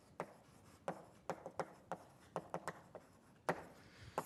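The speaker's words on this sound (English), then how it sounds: "I'm going to draw a little chart here" Chalk taps and scrapes on a lecture-hall blackboard as a simple chart is drawn, a dozen or so sharp, irregular strokes close by with no speech.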